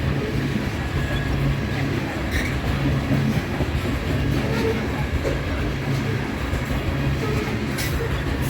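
Freight train cars roll slowly past at close range in Ashland, Nebraska, giving a constant low rumble with rhythmic wheel clacks over the rail joints and occasional light squeals, steady from start to finish.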